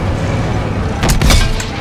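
A World War II tank cannon fires in Call of Duty WWII, a deep booming blast over constant rumbling engine and battle noise, close and loud.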